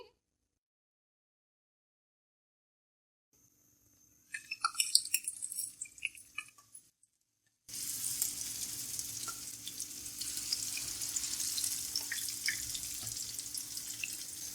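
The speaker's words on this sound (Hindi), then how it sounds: "अब हम कबाब को फ्राई करेंगे।" Chapli kebabs of raw minced meat sizzle and fry in a pan over low heat, a brief crackle first, then a steady, close, continuous sizzle with no talk.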